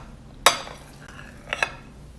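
A fried egg is sliced into ribbons with a pizza cutter or knife, giving one sharp metallic clack of the blade on the plate and then a couple of fainter scraping taps, near and alone.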